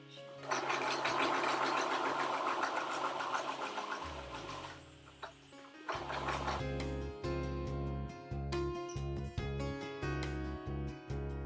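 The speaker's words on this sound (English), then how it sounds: "I'm tugging quite a bit to make sure that this lining doesn't roll over as I'm sewing it." A sewing machine stitches the lining of a satin ball dress, running in steady rhythmic bursts with short pauses and a change in pitch as the speed varies.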